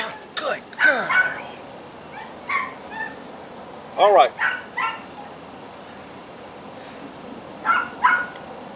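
A Chihuahua in a house gives several short yips, barks and whimpers in separate bursts during an obedience training session, with a person speaking between them.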